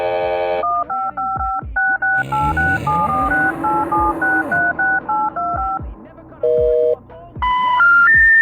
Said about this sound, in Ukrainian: Сем потрапляє на літаючу тарілку і набирає по телефону ментала